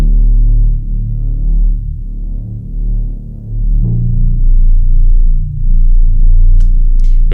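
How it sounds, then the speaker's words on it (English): Synth bass from the Wizardry preset in Analog Lab, a deep, loud, sustained low drone that throbs and swells gently, with a brief faint high flutter near the end. "we've got the bass, and the synth bass which is this wizardry preset"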